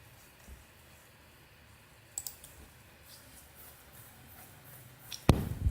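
Computer mouse clicks at a desk while creating an online account: a faint, quiet background with a couple of light clicks near the middle and a sharper cluster of clicks toward the end, no talking.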